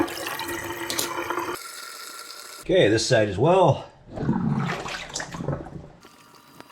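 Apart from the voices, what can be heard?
water draining from a kitchen sink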